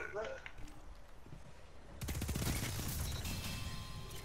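Gunfire in the video game Destiny 2: a dense, continuous barrage of rapid shots and impacts suddenly erupting about halfway through, loud and sustained after a quieter stretch of game ambience.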